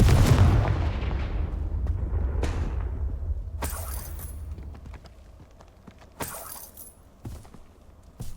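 Confringo spell blast in the Hogwarts Legacy video game, a loud booming explosion at the start decaying into a long rumble, followed by several sharper crackling impacts and smaller bursts.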